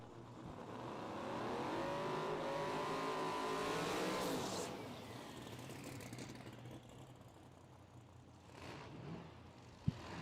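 The Copperhead Mustang drag race car roars down the racetrack at the PDRA Thunder Valley Throwdown, a loud rising engine howl that builds for several seconds, then cuts off and fades into the distance.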